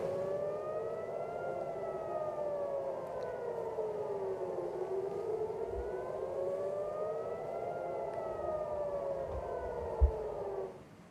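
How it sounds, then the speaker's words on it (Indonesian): A wailing air raid siren warning of an Iranian missile attack on Israel rises and falls in long slow cycles, steady and loud, with a brief thump near the end before it cuts off. "Suara sirine terdengar sebagai peringatan warga Israel adanya serangan"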